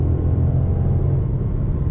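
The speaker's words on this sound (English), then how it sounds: "So we're gonna just accelerate out of the corner here" A 2021 Mercedes-Benz C300 pulls out of a corner under acceleration, its engine a steady, fairly loud low drone heard from inside the cabin, with no talking over it.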